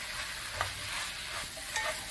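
Pork stir-fry with eggplant being tossed in a seasoning sauce, a continuous bright sizzle with faint stirring scrapes, close and steady with no voices.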